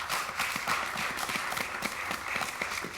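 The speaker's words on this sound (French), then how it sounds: "On applaudit quand même pour Yamoussoukro." Audience members at a televised quiz contest between school districts applaud the Yamoussoukro team with a dense, steady patter of clapping that runs throughout, moderately loud and without speech.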